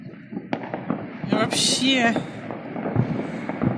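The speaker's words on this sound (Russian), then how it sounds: "Вся Анапа усеяна салютами!" New Year's fireworks exploding over Anapa: continuous crackling bursts and a bright whistling, sizzling volley, distant and close, with someone talking excitedly throughout.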